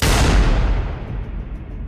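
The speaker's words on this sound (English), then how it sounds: "the very next moment, the sound of a gunshot" A single loud gunshot from a horror movie scene booms sharply and then fades into a long, rumbling decay.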